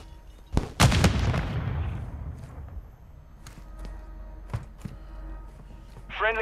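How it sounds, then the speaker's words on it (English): An airstrike in Call of Duty: Modern Warfare II: a heavy close blast with a long rumbling decay, followed by scattered distant gunshots and a rising tone at the end. "Friendly airstrike in the AO."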